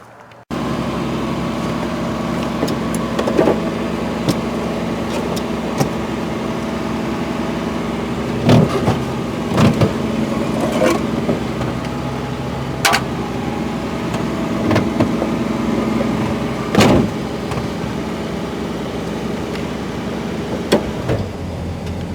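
A 1973 Plymouth Duster's engine runs at a low, steady drone while the car drives slowly around a lot, with occasional clunks and rattles from the cabin; no one speaks.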